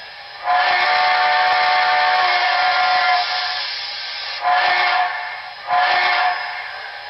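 A Broadway Limited Paragon 4 HO-scale model of a Southern Pacific GS-4 steam locomotive sounds its whistle: one long loud blast followed by two shorter ones, with faint chuffing between.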